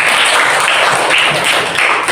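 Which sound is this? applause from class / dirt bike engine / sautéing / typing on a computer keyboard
applause from class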